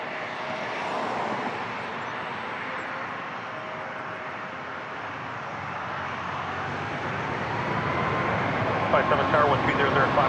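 A steady, broad jet engine roar from an Airbus A330-200 at a Toronto airport gate area, moderately distant and swelling slightly toward the end, with faint ambient rumble underneath.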